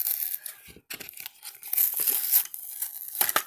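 Packaging tears from a toy car being unboxed, a series of close, sharp ripping and crinkling bursts separated by short pauses, with no voices.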